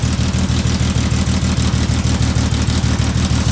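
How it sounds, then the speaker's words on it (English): Exhaust drone from a 1970 Mercedes 280SE running through only its rear muffler, a steady low idle pulse that stays even and loud throughout with no talking. "Now here's the after using just the rear muffler."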